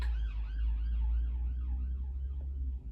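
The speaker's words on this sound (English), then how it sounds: "It's an ambulance going past my house, or the police." An ambulance or police siren passes a house outside, its wailing tone sweeping up and down steadily over a loud low rumble of traffic, fairly close and with no talking.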